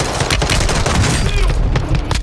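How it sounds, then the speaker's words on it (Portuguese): Rapid bursts of loud gunfire crackle close by in Call of Duty: Warzone 2.0, overlapping shots in a fast, continuous volley with a few sharper cracks. "Tô dando tiro aqui."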